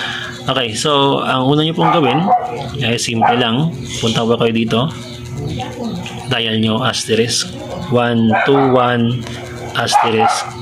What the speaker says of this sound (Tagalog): pasensya na po sa ingay ng aso ah.